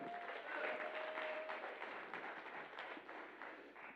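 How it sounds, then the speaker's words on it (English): A crowd at The Fittest South Africa 2022 fitness competition applauds an athlete on the podium, a fairly faint, even wash of clapping throughout, with a brief whistle near the start. "Then you can give her a round of applause"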